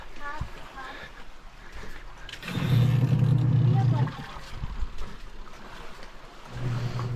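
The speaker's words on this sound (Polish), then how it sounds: "Jeszcze się pranie kręci ostatni raz." A washing machine spins a load of laundry with a rising, steady mechanical whir that swells for a few seconds and then eases back. People talk nearby.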